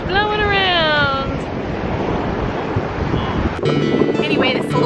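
Wind blows across a beach at Stump Pass in Englewood, Florida, making a loud, steady roar and rumble against the microphone, with a voice speaking briefly at the start and again near the end.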